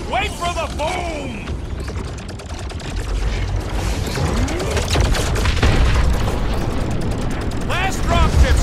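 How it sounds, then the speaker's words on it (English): Explosions and heavy gunfire in Marvel's Guardians of the Galaxy video game, loud rumbling booms under rapid shots and sweeping whooshes, with characters shouting over the din. "Wait for the boom!"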